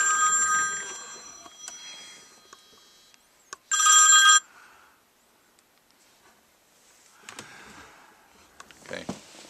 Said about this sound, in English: The telephone, that's okay.